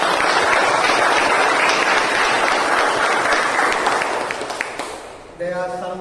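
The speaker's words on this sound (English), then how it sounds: "could we have a round of applause?" An audience at a Toastmasters meeting breaks into sustained applause, dense clapping filling the room for several seconds before fading as a voice starts speaking.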